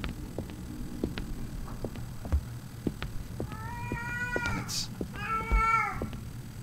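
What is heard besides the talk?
cats meowing in video game Erie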